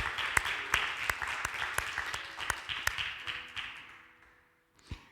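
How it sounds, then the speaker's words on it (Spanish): A church congregation claps along in quick, steady rhythm during a Spanish-language sermon, the sharp claps close and regular before thinning out and stopping, with one last thump at the end. "¿Tú no le das un aplauso al Señor por eso?"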